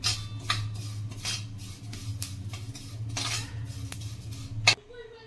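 Sesame seeds and another ingredient roasted in a little ghee in a pan, with a spoon scraping and clinking against the metal in repeated strokes, a low steady hum running underneath and a sharper clank near the end.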